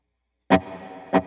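A guitar swell run through a Line 6 HX Stomp with chorus and delay at 60% feedback and 45% mix, heard as two swelling attacks about half a second apart, with a sustained modulated tail ringing between them.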